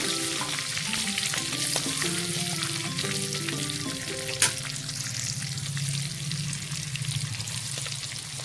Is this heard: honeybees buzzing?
no